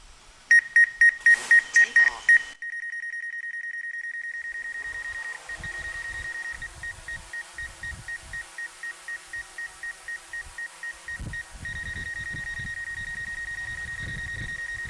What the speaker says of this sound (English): So the beeping is collision avoidance.